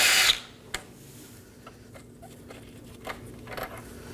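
A short burst of power-tool noise, followed by faint, scattered clicks and taps, comes from removing the 10mm intercooler mounting bolts on a 2018-2024 Chevrolet Equinox 1.5L. The sound is quiet and close, with no talking.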